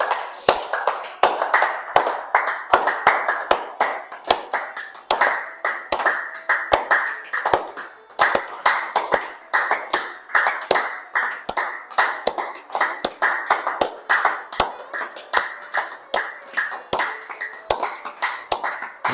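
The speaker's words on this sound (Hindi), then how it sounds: "हाथों को इस प्रकार लो और ये इस प्रकार पूरे खुलेंगे और इस प्रकार ताली बजेगी" Rhythmic hand clapping during a morning yoga exercise, sharp close claps repeating steadily at a brisk pace, with a few irregular ones mixed in, alone without talk.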